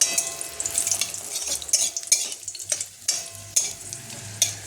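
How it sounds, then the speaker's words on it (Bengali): Dried red chillies, bay leaf and whole cumin are tempered in hot oil in a kadai. A utensil stirs and scrapes in sharp, close strokes over a continuous crackling sizzle, and no one speaks. "আমি এখানে কড়াইতে একটু তেল দিয়ে দিয়েছিলাম, এর মধ্যে আমি এবার ফোড়নটা দিয়ে দেবো।"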